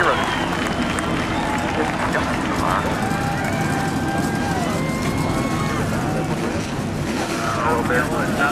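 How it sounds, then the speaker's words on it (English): NASCAR Sprint Cup race car engines roar together in a dense, continuous drone at the 2015 Quicken Loans Race for Heroes 500, loud and steady with rising and falling tones under crowd noise and talk. "the sound of the engines firing up is definitely worth it"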